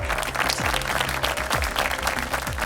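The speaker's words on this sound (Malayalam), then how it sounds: "എനിവേ നമുക്ക് ഷെർമി കാർമൂന് നല്ലൊരു കയ്യടി കൊടുക്കാം" A hall audience at a Bible quiz grand final applauds a contestant, a dense, steady burst of many hands clapping, with a tonal music sting running underneath.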